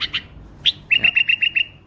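A tame pet bulbul held in a hand in Baghdad chirps several times, then gives a quick rhythmic run of about six bright, close, loud tweets with no talking over it.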